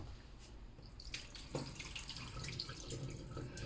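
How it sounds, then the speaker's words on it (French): Soaking water from red beans being poured off into a kitchen sink, a steady splashing stream of water running for several seconds with small drips and clatters, fairly close and with no talk. "Je vais jeter l'eau."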